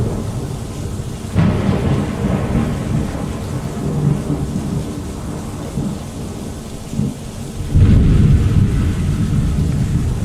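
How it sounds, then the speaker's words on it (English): Heavy rain pours steadily in the Fallout London game world while deep thunder rumbles roll in and swell, loud and close, with no voices over it. "it is raining cats and dogs out here does not help matters one bit"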